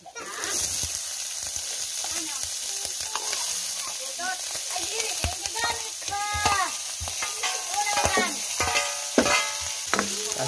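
Sea leech (tarukog) sautéing with pepper in a hot pan gives a steady close sizzle and crackle, broken by scraping stirs and sharp spattering pops throughout.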